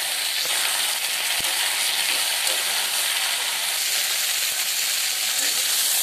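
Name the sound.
mixing vegetables in a frying pan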